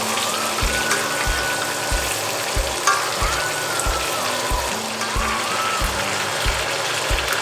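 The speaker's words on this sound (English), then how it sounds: "So you want to sear each side of these steaks, okay?" Ribeye steak searing in butter in a hot pan, a dense continuous sizzle and crackle held at steady loudness throughout, with a faint rhythmic low thumping underneath.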